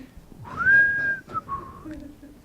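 People whistle indoors in a room during a casual group gathering: a single clear rising-then-level whistled note, followed by a shorter, lower second phrase, fairly close and loud over faint room murmur.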